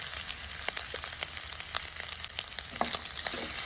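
Grated fresh coconut roasts in a pan with cashews on low flame, giving a steady dry sizzle broken by scattered crackles and the scrape of stirring, close and alone without talk.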